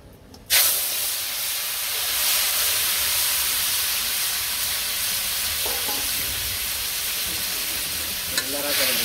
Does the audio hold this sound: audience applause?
no